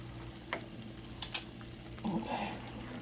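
Chili con carne in the style of Cincinnati Skyline chili cooking in a pan, a low steady simmer and sizzle broken by a few sharp stirring scrapes and clinks of a utensil against the pan.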